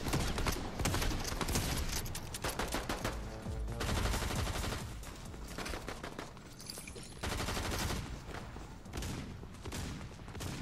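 A Fortnite shotgun fires rapidly in dense, loud repeated blasts, a nearly continuous volley of sharp shots running throughout with little pause.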